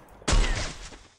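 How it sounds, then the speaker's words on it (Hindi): A single loud, sharp video game gunshot in Garena Free Fire, a blast with a booming low end that fades over about a second. "एक गोली चला।"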